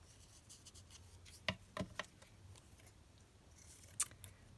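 Scissors cut around a piece of black lace for a junk journal, giving a few sharp, close snips spaced through a quiet room, with a brief pair of crisp clicks near the end.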